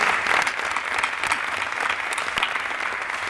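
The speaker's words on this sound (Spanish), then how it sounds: "realmente merece hacer una pausa y aplaudir sinceramente" Steady applause from a crowd, dense clapping at an even level throughout with no pauses.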